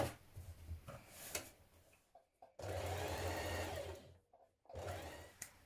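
A sewing machine hemming the sleeve edge of a summer top, heard faintly in short separate bursts of whirring stitching with quiet pauses between them.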